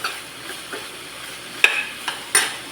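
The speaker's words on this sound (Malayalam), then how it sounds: "നന്നായിട്ടൊന്ന് വഴറ്റാം ഒരു രണ്ട് മിനിറ്റ് നന്നായിട്ട് വഴറ്റി കൊടുക്കണം" Ivy gourd (kovakka) sautéed and stirred in a pan for a mezhukkupuratti stir-fry, a soft steady sizzle broken by a few sharp spatula scrapes and clinks against the pan.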